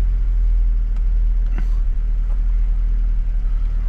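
A carburetted Fiat Abarth engine, restarted after long storage, runs with a loud, close, deep rumble and slight wavering, with a couple of faint clicks over the steady throb.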